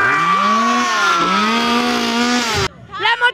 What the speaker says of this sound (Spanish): ¡La motosierra! Da mucho susto.